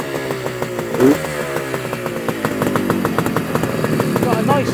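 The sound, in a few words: Suzuki GT250C motorcycle engine revving, airbox intake sound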